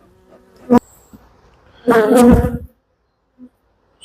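Honey bees buzz around hive frames during beekeeping, with one bright burst of buzzing near the start and a longer, louder buzzing swell in the middle. Quieter background hum fills the gaps, and a person speaks briefly.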